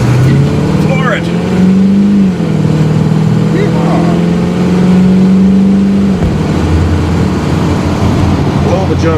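A car engine is floored at full throttle, its steady drone climbing in pitch through a gear change and pulling hard before easing off, loud and close inside the cabin with no talk over it.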